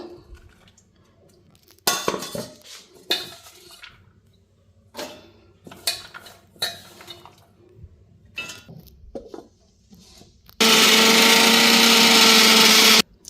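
An electric blender grinds about 200 g of amla with fenugreek seeds into a paste, a loud steady whir of a few seconds near the end, preceded by scattered clinks and knocks of dishes being handled.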